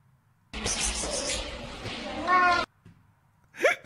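A cat, sounding angry, gives one loud, drawn-out meow close by, then a brief quiet pause and a shorter, sharper yowl at the end.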